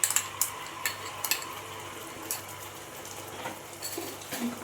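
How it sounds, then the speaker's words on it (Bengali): Pureed tomato frying with spices in a pan for chana masala, a soft, steady sizzle with occasional scrapes and clinks of a stirring utensil against the pan. "আবারও মশলার সাথে আমি টমেটোটা ভালো করে কষিয়ে নেব"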